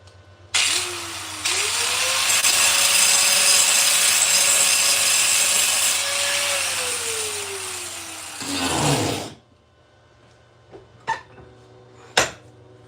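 An angle grinder cuts and grinds steel while fabricating a wheelie bar mount, a loud steady whine that rises in pitch, holds for about eight seconds, then winds down, followed by a few sharp metallic clanks.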